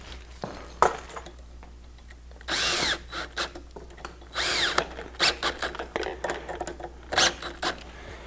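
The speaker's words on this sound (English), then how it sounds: "And if you just use a drill" Cordless drill driving screws into a Consew 206 RB5 sewing machine table, several short whirring bursts of varying length up close, separated by pauses with clicks and handling noises.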